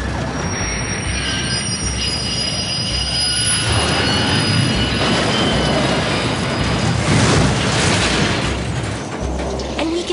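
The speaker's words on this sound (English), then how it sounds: "the train from the industrial plant has an accident." A train from an industrial plant having an accident: loud, continuous rumbling railcar noise with metallic wheel squeal and rhythmic clunking throughout, swelling briefly near the end.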